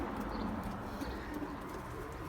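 A pigeon cooing in a loft with young birds, soft low repeated coos over a steady background hiss, moderately close and alone without talk.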